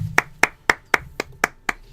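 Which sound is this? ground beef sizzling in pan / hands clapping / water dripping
hands clapping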